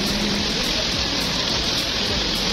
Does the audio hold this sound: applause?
no